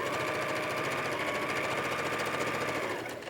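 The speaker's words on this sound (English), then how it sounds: "I want to stop with my needle down in the sewing machine" A sewing machine runs steadily at speed while quilt pieces are stitched, a fast continuous mechanical stitching rattle that slows and stops at the end with the needle down.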